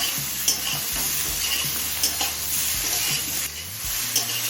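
Mixed vegetables with spices sizzle steadily over a medium flame. A spatula stirs them, scraping and tapping the pan at uneven intervals close by.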